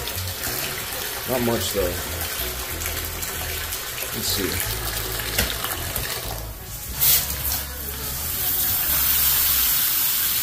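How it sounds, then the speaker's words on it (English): Water runs steadily from house sink faucets during a home inspection in Buckeye, Arizona, a broad hissing flow that continues throughout and strengthens toward the end, with brief speech and handling noises over it. "Flow is much better out of these sinks"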